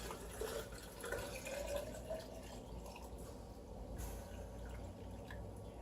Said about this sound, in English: now the trick is going to be pouring this brine over the cucumbers without spilling